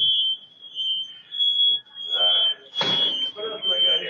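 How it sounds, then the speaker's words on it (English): Smoke alarms beep with a shrill, continuous high-pitched tone at a house set on fire, sounding steadily throughout while people talk over them. "smoke alarms going off"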